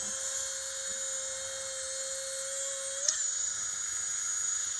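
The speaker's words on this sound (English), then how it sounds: "So I'm going to just drill a hole here about approximately where the eye is." Small rotary carving bit drilling an eye hole into a wooden bird head, a steady high-pitched whine from the carving tool with a brief dip as the bit bites into the wood, close and continuous.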